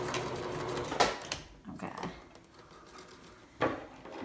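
Sewing machine back stitching fabric while making a photo pillow, a steady mechanical run with louder bursts near the start and end, close and moderately loud.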